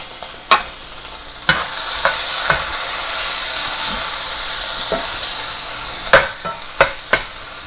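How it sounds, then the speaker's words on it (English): Green onions and sliced mushrooms sauté in a hot pan, making a steady loud sizzle and hiss, with a few sharp clacks of a utensil stirring against the pan and no talking. "we're also going to add the sliced mushrooms to the pan. And we're going to saute these down nicely here"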